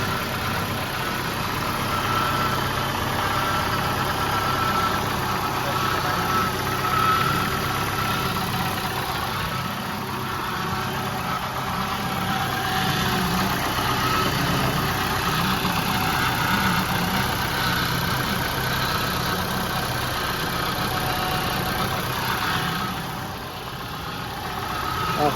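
A 2005 Nissan X-Trail's QR20 engine idles steadily and smoothly after a crankshaft and camshaft position sensor repair, a constant close hum with no hunting, running alone for the whole stretch.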